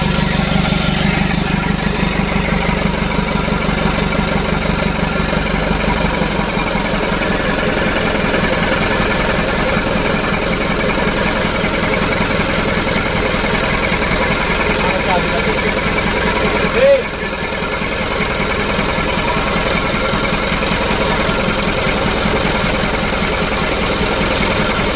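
A newly assembled 120 PS engine runs steadily at idle, a loud continuous rumble with a vibrating hum that holds throughout, with a brief click partway through.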